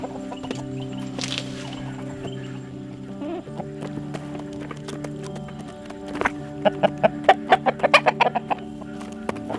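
Farm chickens cluck at morning chores, with steady low hum in the background and a run of sharp clucks and calls growing louder near the end; no talking.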